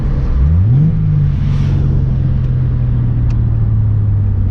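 A car engine revs up quickly, then settles into a steady, smooth hum that holds with little change.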